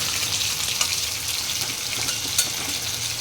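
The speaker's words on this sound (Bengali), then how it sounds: "মাছগুলো আরেকবার কালো জিরের ওপর ফ্রাই হবে" Katla fish frying on black cumin seeds in a pan, with a continuous close, hissing sizzle and a few light pops, heard alone without speech.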